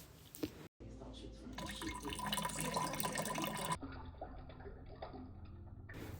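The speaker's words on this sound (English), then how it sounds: "When all of the honey has been dissolved, we can add the yeast solution that we prepared earlier." Yeast solution is poured into dissolved honey for an orange-zest mead, giving a steady rushing, splashing pour for a couple of seconds, followed by softer liquid movement and faint clatter, fairly close.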